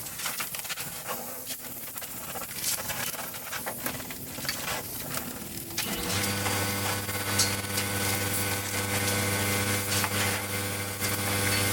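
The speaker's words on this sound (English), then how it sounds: "The air compressor just kicked on." An air compressor kicks on midway: scattered clatter and hiss give way to a steady, loud motor drone with a strong low hum that runs unbroken to the end.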